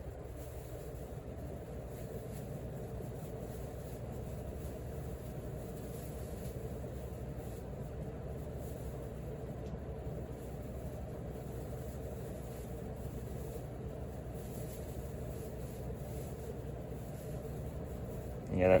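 Casablanca Delta Seasons ceiling fan running at high speed, a low steady whirring hum that holds evenly throughout, with a faint rustle from a plastic bag blowing nearby and a brief thump at the very end.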